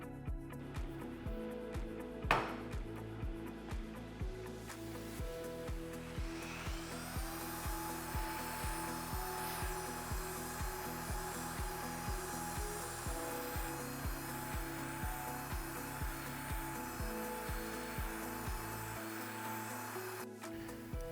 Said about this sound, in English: Instead of cutting off more, I'm gonna use a sander and try to make the adjustments.